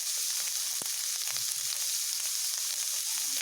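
Figs frying in a pan with salt and turmeric, a soft, continuous hissing sizzle at low level with a few faint crackles, no talk.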